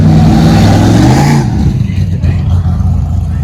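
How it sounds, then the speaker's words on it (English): Big trucks rev loudly outdoors, a heavy rumbling roar that is strongest at first and then eases back, with a puppy's owner talking over the noise. "Got the big boy trucks out here."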